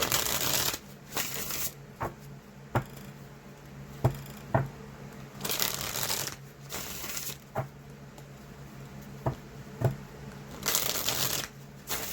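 A Heaven and Earth tarot deck is shuffled close by, with repeated riffling bursts of cards and soft taps and knocks between them, no talk over it.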